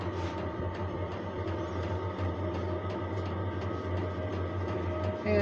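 A Chinese diesel parking heater fires up with a steady, moderately loud mechanical drone and faint regular ticks running over it.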